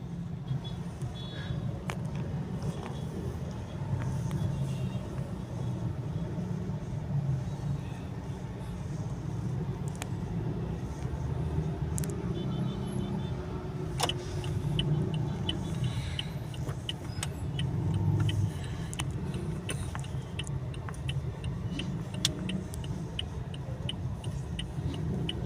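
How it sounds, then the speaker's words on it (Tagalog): Heavy, congested road traffic on Quezon Boulevard in Manila rumbles steadily, with engines idling and creeping, scattered clicks, and faint beeps over the dense, continuous low roar. "tindi ng traffic oh"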